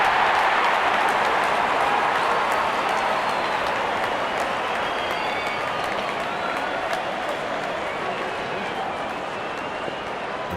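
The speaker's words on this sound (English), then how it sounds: "Openers walking in and the crowd cheering in anticipation." A large cricket stadium crowd cheers and claps as the opening batsmen walk out, forming a steady, dense roar of applause that holds without a break throughout.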